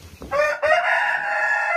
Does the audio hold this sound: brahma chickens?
yes